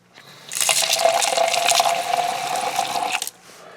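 Water and a shot of dish soap pour steadily into a rock tumbler barrel of garnet, one continuous splashing gush for about three seconds that then stops abruptly, close and fairly loud.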